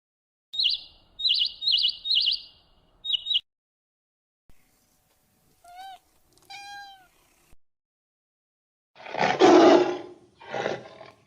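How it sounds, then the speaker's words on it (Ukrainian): Bright bird chirps repeat in quick bursts, followed by a few soft meows, then a loud, rumbling lion roar with a shorter second roar. "це спів пташок, м'явкання котика, речання лева,"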